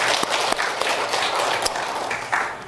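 A church congregation claps to welcome a guest at a Korean worship service, a steady wash of applause from many hands at close to medium range, with a few sharper claps standing out.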